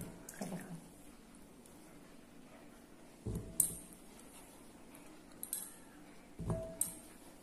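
Black jamun berries soaked in salted water are washed by hand in a bowl, giving a few faint splashes and soft clinks in three short bursts against a quiet background.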